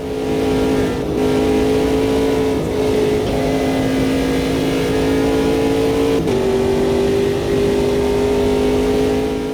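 Race car engines in the Automobilista 2 sim game hold a steady loud drone, pitch stepping with brief gear-change dips as the car runs with rivals close behind.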